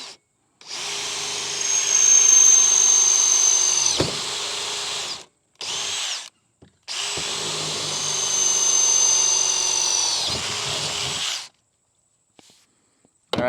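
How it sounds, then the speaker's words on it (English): A power drill bores a hole through a NuCanoe Frontier 12 kayak in two long whining bursts of several seconds each, with brief starts between them, close and loud, ending in quiet. "nothing walks while I'm drilling that second hole"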